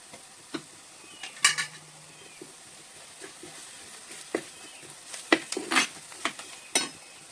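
Chili powder, chicken masala and coriander powder sautéed with green chilies and mushrooms in a pan: irregular spoon scrapes and clinks over a faint sizzle, close by, with no talking.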